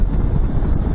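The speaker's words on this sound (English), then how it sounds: "This windshield actually keeps the wind off my neck, but I still get it in the shoulders and on my head." Steady roaring wind buffets a helmet microphone while riding a 2015 Suzuki DL650 motorcycle behind its windshield, a loud, constant low rush with no voices.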